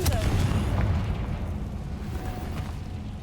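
Confringo spell blast in a Harry Potter video game, a single booming explosion at the start that fades into a rumbling tail.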